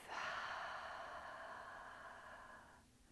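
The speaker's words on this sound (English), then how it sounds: "Exhale fully out your mouth." A single slow, steady exhale through the mouth during a prenatal yoga session, close and soft, lasting nearly three seconds before trailing off into quiet.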